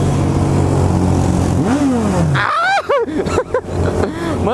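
A Suzuki Bandit S 1250cc motorcycle engine revs loudly up close, its pitch climbing and falling through several quick throttle blips over a steady idling rumble.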